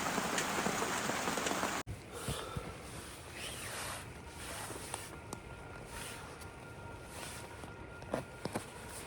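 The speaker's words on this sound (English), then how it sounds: "the weather took an abrupt turn and it started raining" Rain pattering steadily through a state forest in New South Wales, a dense hiss of drops on leaves and gear after a loud rustle at the start, with scattered close taps and a few footstep-like sounds, no talk.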